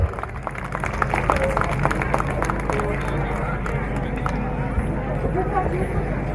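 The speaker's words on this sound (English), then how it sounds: "Kind request with the audience, please encourage the students with the loud applause." Audience at a school function applauding students, a dense, steady wash of many hands clapping that continues throughout with a crowd murmur beneath.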